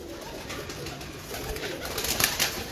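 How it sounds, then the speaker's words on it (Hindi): Pigeons, prized fancy birds, coo softly and steadily close by in a cluttered setting with a bit of background noise, the calls swelling slightly toward the end. "बहुत अच्छे कबूतर दिखा रहा हूँ आपको, नायाब और अच्छे कबूतर"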